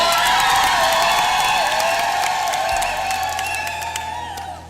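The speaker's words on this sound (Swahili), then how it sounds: "Makofi kwake." Sustained applause and cheering from a large crowd for an archbishop at a jubilee celebration in Moshi, loud and dense, with whoops and voices mixed in, slowly tapering toward the end.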